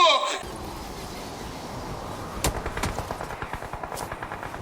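Automatic gunfire in PUBG Mobile, rapid rhythmic bursts of shots rising in the second half after a brief opening sound, fairly loud and close.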